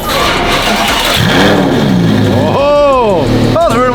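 A car engine on a cold day cranks and catches, then revs in rising and falling sweeps, loud and close, with voices talking over it.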